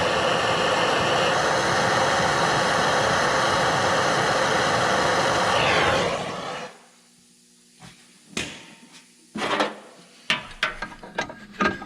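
Engine of a 1978 Pontiac Trans Am warming up, a loud steady roar and rumble that cuts off about two-thirds through, followed by scattered clanks and knocks of tools nearby.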